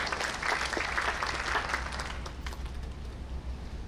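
A church congregation applauds together, clapping strongly at first and then thinning and fading toward a softer tail.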